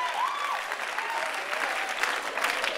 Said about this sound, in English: Clap your hands for fishing rights.